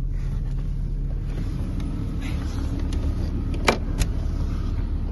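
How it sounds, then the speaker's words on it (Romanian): A BMW E39 528i's engine idles steadily as a low, even rumble, heard close, with a couple of brief clicks near the end. "O să vă arăt acum și cum arată motorul și cum se aude motorul."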